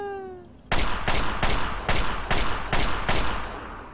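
Video game gunfire: a falling electronic tone, then about seven loud, evenly spaced bursts of automatic shooting, close and alone.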